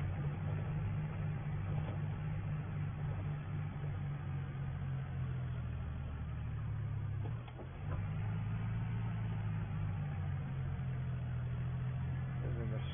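A small old tractor engine runs steadily while climbing a road, a continuous low mechanical drone with a brief dip in level partway through.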